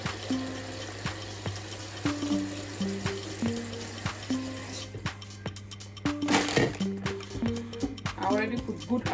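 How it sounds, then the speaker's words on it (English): Tap water runs into a pot holding cow skin, tripe and beef, a continuous splashing stream with irregular clanks and knocks of the pot, plus a steady low hum from the kitchen; a person talks briefly near the end. "So I'll be putting water in this one."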